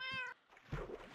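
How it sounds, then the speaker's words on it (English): A house cat gives a short, clear meow indoors, followed by a quieter muffled sound and low background noise. "You hear my cat?"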